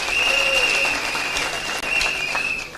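A conference audience applauds steadily and loudly throughout, with a dense wash of many hands clapping together.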